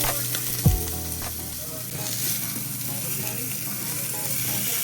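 Sausages fry in a pan with a loud, continuous sizzle, a quick clank of the pan near the start, and faint talking in the background.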